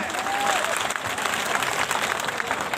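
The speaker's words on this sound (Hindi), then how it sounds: "एक बार जोर से तालियां बजाने" Loud, continuous crowd clapping at a Bahujan Samaj Party political rally stage in Agra, a dense, even wash of hands from many people.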